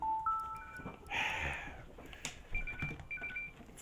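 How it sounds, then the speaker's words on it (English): A phone alarm beeps in a rising series of short electronic tones, then repeats its pattern after a rustling pause, sounding close and fairly loud with no talk over it. "why is my alarm have to be going off right now?"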